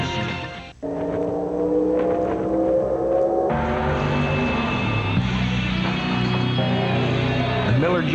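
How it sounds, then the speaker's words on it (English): A Miller Genuine Draft Rusty Wallace stock car engine roars and revs in a broadcast commercial, a loud, sustained mechanical drone that shifts pitch through several surges and changes, with no voices over it. "A Miller Genuine Draft Rusty Wallace stock car."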